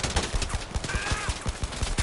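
Rapid gunfire from a sawn-off shotgun in the video game Blood and Truth, with a string of loud, punchy blasts fired in quick succession close up and a short tonal sweep partway through.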